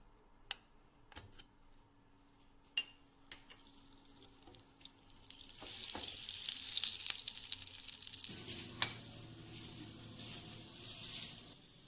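Butter melting in about three large spoons of hot vegetable oil in a pan, a soft sizzle that swells into a steady bright crackle, with a few sharp clicks and knocks of utensils, and no talking.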